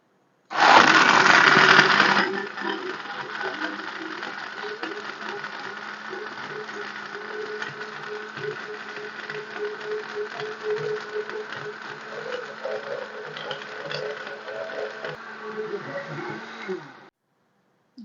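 A blender whirs through sugarcane juice with lemon juice, black salt and ice, opening with a loud burst of rattling ice before settling into a steady motor drone that runs for about fifteen seconds and stops abruptly.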